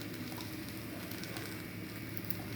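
Chopped onion and a little coconut fry in a pan for a country chicken curry, giving a steady, dense sizzle with soft crackle and pops that continues evenly throughout.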